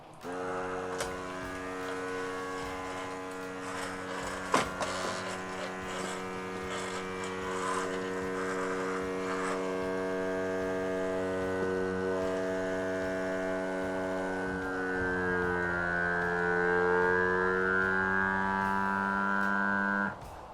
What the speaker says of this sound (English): The pump's going to run until it builds up enough vacuum.